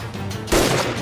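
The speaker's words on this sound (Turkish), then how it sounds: "Silah sesi mi o?" A single sharp gunshot-like bang cracks out midway, fairly close and loud, over a low background hum.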